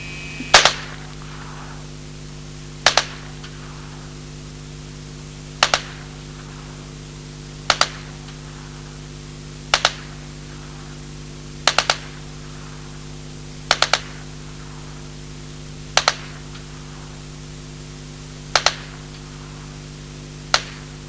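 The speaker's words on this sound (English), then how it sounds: "I'm going to try to shoot the weapon now in a fully automatic mode with the open shoulder stock at 100 yards" A 1977 Alan Halla experimental low-recoil submachine gun, serial AH3377, fires with the open shoulder stock at 100 yards: sharp isolated reports about every two seconds, each crisp and loud over a steady low hum, with no talking.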